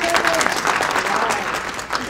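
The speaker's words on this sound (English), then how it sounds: "Can we give her a round of applause?" A round of applause from the audience at an anti-bullying and cyberspace safety event, dense continuous clapping at a steady level, with a voice briefly audible underneath.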